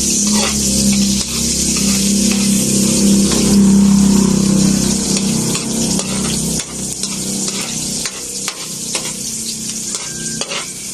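Pork and onion sautéing in a pan, a loud, close, continuous sizzle with stirring and scraping strokes, the frying intensity easing slightly in the second half.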